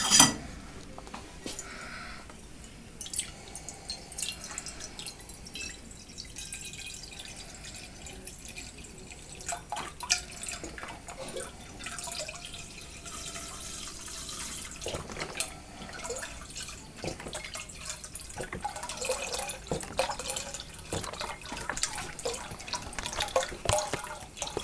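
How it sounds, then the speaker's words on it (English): Strawberry Ribena, about a litre, is poured into a saucepan with continuous trickling and dripping liquid sounds, close and steady, with no talking. "we're going to take a litre of ribena strawberry and we're going to pour that into a saucepan"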